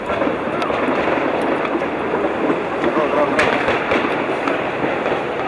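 A dense, continuous roar of overlapping blasts and crackles during the Westgate Mall siege in Kenya, loud and sustained, with sharp bangs breaking through the rumble.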